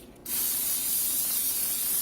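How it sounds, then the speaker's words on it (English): A short pause, then a can of cooking spray releases a steady, close hiss into an 8x8 baking dish lasting under two seconds. "Spray it with cooking spray."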